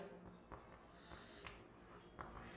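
Short strokes of writing units on a board in a physics class on units and dimensions, a few soft scratchy marks spread over a couple of seconds against faint room noise.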